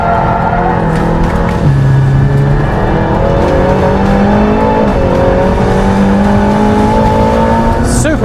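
An Aston Martin hypercar, a new £1,100,000 model, drives by outside with a loud, steady engine drone whose pitch shifts and rises slightly over several seconds.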